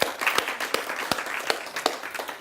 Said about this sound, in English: can we give this gentleman a huge round of applause?